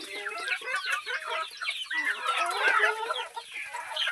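Lots of poultry-farm chickens clucking and chattering together at close range while running around to feed, a busy continuous flock sound with overlapping calls.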